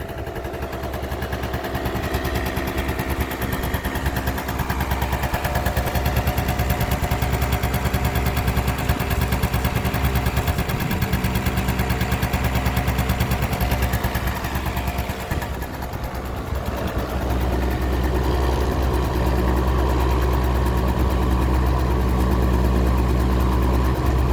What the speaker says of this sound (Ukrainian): Мені здається, що в неї підвищений холостий хід